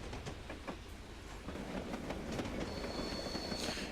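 An LMS Black 5 steam locomotive hauls its train across a bridge on a branch line, giving a steady, fairly faint rolling rumble with rhythmic wheel clicks and a thin squeal building near the end, with no voices.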